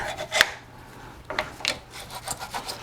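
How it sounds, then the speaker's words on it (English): A toothbrush scrubs the brakes of a 2007 EZGO TXT gas golf cart with brake cleaner, making close, quiet bristly rasping strokes in short irregular bursts. "go through and kind of clean it up with this toothbrush so I'm not wasting so much brake cleaner solution"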